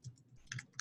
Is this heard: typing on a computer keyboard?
yes